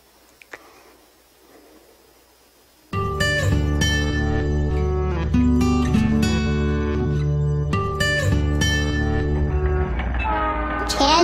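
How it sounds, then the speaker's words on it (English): A small toy train runs steadily nearby after a quiet start, its motor humming with rattling, clicking wheels and occasional whistle-like tones. "I got a little train to run around"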